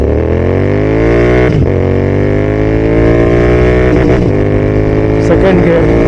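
A Royal Enfield GT650 motorcycle pulls away from a standstill in first gear, its engine note rising steadily in pitch as it revs up, loud and close, with a few brief bumps or shifts along the way.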